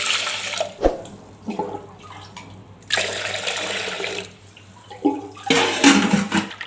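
Toor dal lentils are rinsed with water in a bowl in a home kitchen. Running water gushes and splashes in several surges, close and fairly loud, with no speech.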